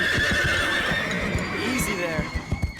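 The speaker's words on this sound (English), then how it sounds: "You're just horses." Cartoon horses neigh and whinny in a stable setting, with soft hoof clip-clops toward the end and a voice talking over them throughout.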